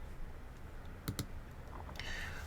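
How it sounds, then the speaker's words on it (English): A few sparse key clicks on a Mac keyboard, including a press of the return key in a terminal, sound close and light over quiet room hiss. "we have to hit the return key of our keyboard"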